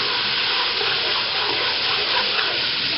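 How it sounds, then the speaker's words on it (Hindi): Stock poured into a pot of browned goat trotters for mutton paya, a steady hissing, splashing pour that runs evenly for the whole stretch with no talking. "फिर इसमें थोड़ा सा हमें पानी की जगह भी स्टॉक डाल देंगे"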